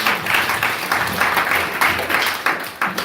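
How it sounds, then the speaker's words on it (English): An audience at a Namahatta devotional gathering gives a round of applause after a kirtan. The clapping is moderately loud and close, swelling in uneven waves for a few seconds. "Let's give them a huge round of applause."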